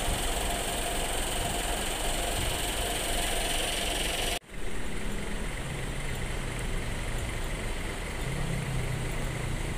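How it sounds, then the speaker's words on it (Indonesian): Hino RK260 bus engine running with its hood open, still hot just after arrival, giving a loud steady close-up idle with mechanical hum; a brief drop in level midway, then the rumble continues unchanged. "Ini nampak mesin dari Hino RK260 ya. Jadi dibuka kapnya, panas soalnya baru tiba."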